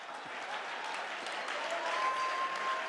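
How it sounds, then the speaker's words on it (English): Audience at a leadership talk applauding, a steady, soft wash of clapping heard from a distance with no voices over it. "Come on, clap your hand."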